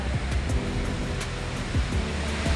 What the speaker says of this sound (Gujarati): મિત્રો તમે જોઈ શકો છો વનાકબોઈ ડેમ ઓવરફ્લો થઈ ગયો છે.